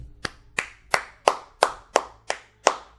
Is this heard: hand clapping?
yes